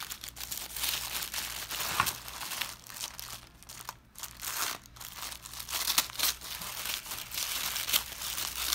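Gold and white polka dot tissue paper crinkling and rustling continuously up close, with a few louder crunches while a package is unwrapped.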